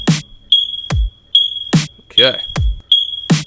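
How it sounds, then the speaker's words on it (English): Repeated high beeping from a smoke detector cuts in and out over thumping drum hits in a deliberately awful song, with a brief spoken word in between. "we'll see how that leads us into the smoke detector chirping sound"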